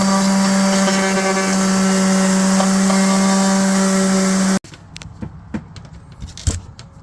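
A power sander with 150 grit working over teak woodwork on a 1972 C&C 39 sailboat, running off an inverter, a loud steady whine for several seconds before it cuts off, followed by scattered knocks and handling sounds.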